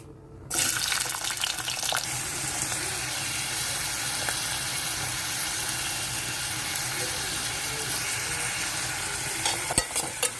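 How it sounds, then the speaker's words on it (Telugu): Onions fry in hot oil in a pan, a loud, dense, continuous sizzle that starts abruptly and stays steady throughout, with faint clinks near the end. "ఉల్లిపాయలు బాగా ఎర్రగా వేగిపోవాలండి"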